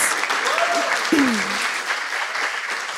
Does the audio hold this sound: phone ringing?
no